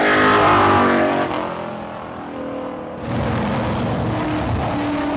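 The number 6 sprint car circles the track at the Ken Sargent Super Nationals, its engine roaring loud and close, fading briefly as it moves away, then swelling back into a steady drone.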